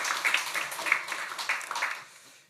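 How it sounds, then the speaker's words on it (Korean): Brief applause from a church congregation during a Sunday service, a soft, diffuse patter of clapping that fades out toward the end. "다시 한번 경의의 박수 하겠습니다"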